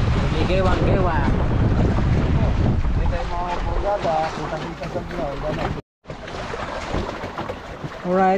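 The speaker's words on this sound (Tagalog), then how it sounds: "Grabe pa rin yung agos at hangin oh." Strong wind buffets the microphone aboard a small boat out at sea, with rushing water and waves beneath, a steady loud roar across the whole stretch broken by one brief dropout; people talk throughout.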